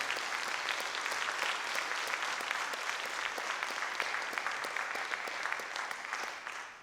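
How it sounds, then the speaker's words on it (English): Sustained applause from a crowd, dense steady clapping filling the whole stretch at an even loudness with no voices. "can we give Shaun King another round of applause, please?"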